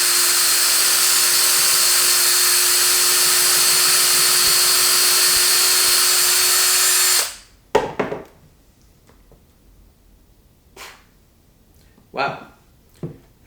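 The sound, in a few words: driving bolts into a Telecaster bolt-on neck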